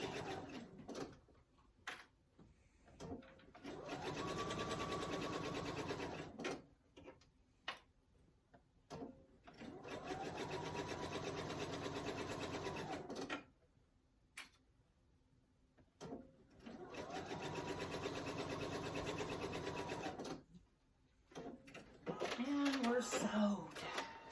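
A home sewing machine stitching fabric for a tissue box cover runs in three steady bursts of close, even whirring, separated by pauses filled with small handling clicks and rustles.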